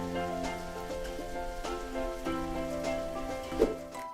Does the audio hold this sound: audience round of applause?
no